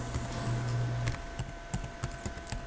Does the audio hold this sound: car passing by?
no